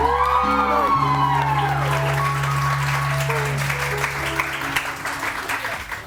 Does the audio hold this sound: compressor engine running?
no